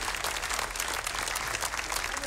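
Audience applause for the winner of a bear wrestling match with a grizzly bear, Ireland 1984: a steady, dense wash of clapping at moderate distance, continuous and fairly even throughout.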